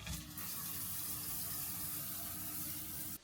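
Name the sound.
shower running water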